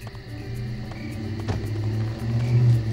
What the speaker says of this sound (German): Auto.